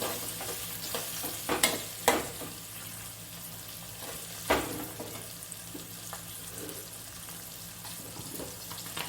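Soft sizzling of onion frying in tempering oil, with a few sharp clatters of a utensil against the pan and a faint background hum.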